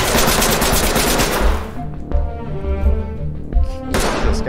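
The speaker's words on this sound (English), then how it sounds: "I got shot in the arm through the wall right there." Gunfire from the tactical shooter game Ready or Not, fired through a wall: a dense burst of rapid automatic shots opens the clip, then sharp single shots ring out in a slower, uneven rhythm.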